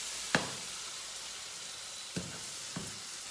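Pasta sizzling and frying in a pan, a steady soft hiss with a few faint knocks of utensils against the pan.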